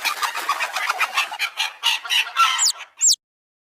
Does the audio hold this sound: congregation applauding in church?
no